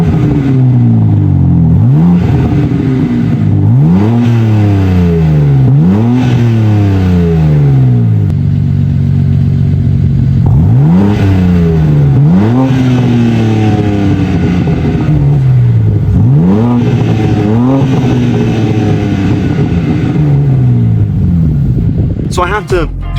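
A BMW M4 with an upgraded exhaust and aftermarket valve controller revs hard again and again, each loud, close engine sweep rising and falling in a steady repeating pattern.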